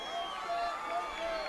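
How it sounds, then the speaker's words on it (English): A large, lively crowd at a 1996 Bill Clinton campaign rally in Westland, Michigan, makes a steady roar of many voices with scattered cheers and shouts, loud and continuous throughout. "It's a pretty active crowd"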